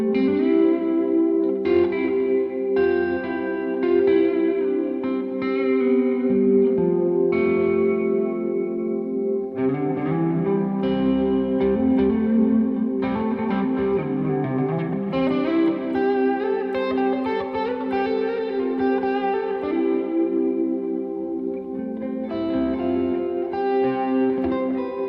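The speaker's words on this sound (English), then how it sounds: "Put on some reverb." A held synth pad chord run through a guitar pedalboard with reverb added swells and shimmers, repeated soft attacks blurring into a dense, washy sustained tone that drifts in pitch, steady and moderately loud, with no voices.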